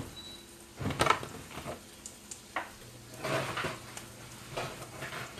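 Metal baking pans slide and clank back into a home oven while cornbread dressing is being made: a few scattered knocks and scrapes with quiet gaps between them.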